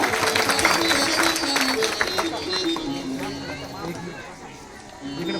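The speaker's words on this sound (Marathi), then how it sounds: "त्यांच्यासाठी एकदा टाळ्या वाजवा" Audience at a Marathi devotional storytelling performance applauds, a dense burst of clapping that starts loud and gradually thins out, with a tonal instrument and voices underneath.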